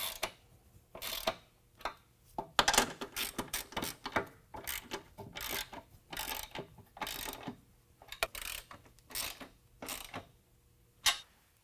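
A ratchet tightens flange nuts on a running-board step bracket of a 2019 Ram 1500 during an N-Fab RKR step install, producing close, quiet bursts of rapid clicking separated by short pauses.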